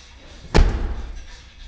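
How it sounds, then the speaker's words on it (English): A modified lambo-style door on a Ford Ranger swings shut on its own with one solid slam and a short thud that fades quickly against a quiet background. "Now all I'm gonna do is let this door go."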